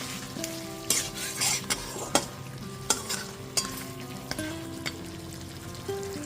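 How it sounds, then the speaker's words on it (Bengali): A fried fish head is stirred with spices in a pan, giving a steady close sizzle punctuated by repeated scraping knocks of the spoon at irregular intervals. "ভেজে রাখা মাছের মাথাটা দিয়ে দেওয়ার পর খুব ভালো মতো মিশিয়ে মাছের মাথাটা মশলার সাথে খুব ভালো মতো একটুখানি 4 থেকে 5 মিনিট ধরে মিশিয়ে নিতে হবে।"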